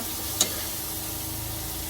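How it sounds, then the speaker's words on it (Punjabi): Garlic tempering sizzles in hot oil as a steady close frying hiss, with one short sharp crackle near the start. "ਇੱਧਰ ਤੜਕਾ ਲੱਗਦਾ ਲਾਸਣ"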